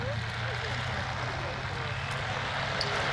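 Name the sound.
P-51 Mustang aircraft flying in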